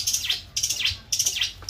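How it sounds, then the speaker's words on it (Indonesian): Small bird chirping in quick, bright bursts of tweets, repeated three times in close succession at moderate loudness, with no talk over it. "Iya, burung tok iki."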